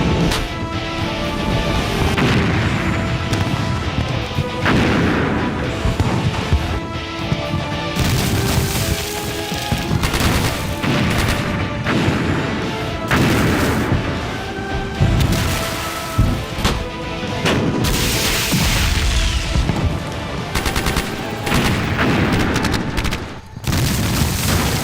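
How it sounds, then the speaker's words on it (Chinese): Artillery barrage in a war film, guns pounding riverbank embankment positions: dense, continuous booms and crashes layered under a loud orchestral score for about 25 seconds, with no let-up in intensity. "让炮团一营集中火力轰击蓝军堤防阵地"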